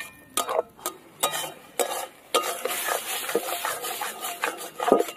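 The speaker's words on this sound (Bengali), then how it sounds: "সবকিছু দিয়ে নাড়াচাড়া করে নিলাম" Spinach cooked down with spices in a pan, stirred with repeated scraping strokes of a spatula against the metal, each stroke crisp and close, over a faint sizzle that grows busier toward the end.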